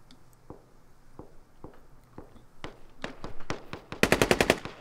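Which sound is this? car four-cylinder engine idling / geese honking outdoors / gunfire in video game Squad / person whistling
gunfire in video game Squad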